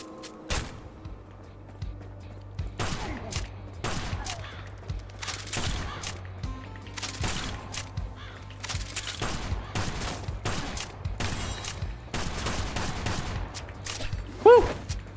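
Revolver fire in the video game Kill the Crows, an eight-round gun: loud, sharp shots in quick irregular bursts that start after a short pause and run to the end over a faint low hum.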